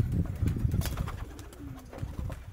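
Pigeons cooing softly in a loft, low throaty coos repeating in uneven bursts, fairly close but quiet, with light rustling and scattered clicks around them.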